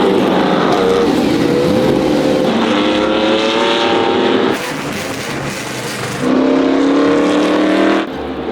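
Classic racing cars roar past on the Montjuic circuit, loud engines revving and accelerating with rising pitch, one car followed by another passing close by, no talking.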